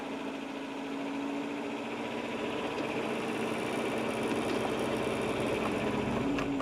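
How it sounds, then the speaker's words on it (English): A Toyota 4Runner engine drones steadily with a constant mechanical hum, gradually rising in pitch and intensity as a hand throttle speeds it up toward the end, with an onboard Premier Power Welder fitted. "you can hear the engine speed go up"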